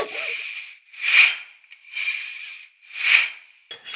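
Hand saw with a coarse 18 teeth-per-inch blade cutting thick aluminum, a close rhythmic rasp of about four strokes, each push and pull swelling and fading with brief pauses between.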